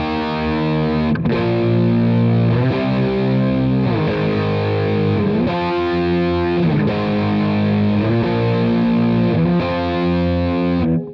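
Heavy distorted electric guitar power chords played in a steady chugging rhythm, loud and thick, shifting between several chord positions with no voices.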